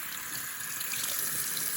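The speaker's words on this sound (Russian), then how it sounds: "Теперь надо сполоснуть. Какая вода ледяная идет" Cold tap water runs steadily from a faucet into a sink for rinsing, a continuous close, even splashing rush with no talk.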